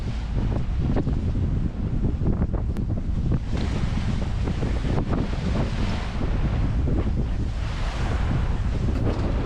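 Motorboat pushing through ocean waves against strong current off the Bahamas, steady loud wind buffeting the microphone over a continuous rumble of hull and surf, with occasional slaps of water, no voices.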